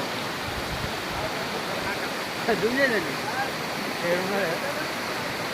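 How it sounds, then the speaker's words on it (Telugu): Steady broadband rush of falling water from Babijhari waterfall near Kerameri, heard from a distance, with faint voices talking briefly over it. "అదొక జలపాతం కదా చూడు"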